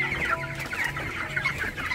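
Chickens clucking close by while being fed, a steady run of overlapping clucks and soft calls, with no speech.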